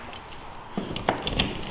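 A large bunch of keys jangles in a workshop, a few quick metallic clinks and rattles close to the microphone, short and bright with nothing else heard.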